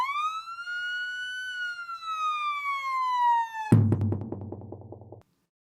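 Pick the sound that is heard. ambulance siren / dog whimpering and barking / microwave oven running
ambulance siren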